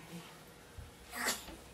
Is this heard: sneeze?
yes